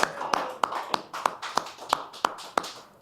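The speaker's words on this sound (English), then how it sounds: "Give her a nice round of applause." Sparse, fairly close hand claps from a small audience at a community meditation and spiritual forum, about ten sharp claps in a steady loose rhythm, fading at the end.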